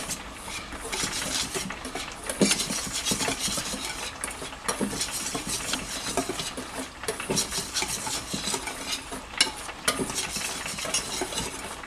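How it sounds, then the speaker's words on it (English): A whisk stirring flour, salt and sugar together in a bowl for vegan donut batter, a steady rapid scraping and clinking that runs continuously and close up, with no talking. "I'm just going to whisk that together until it's well combined."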